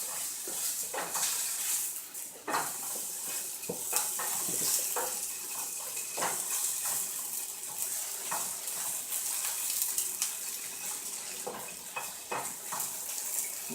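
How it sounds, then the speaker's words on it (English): Tofu pan-frying with a steady broadband sizzle throughout, punctuated by repeated sharp clicks and scrapes of stirring in the pan, moderately loud and close with no talk. "Now we're back over here to the pan-fried version of the tofu."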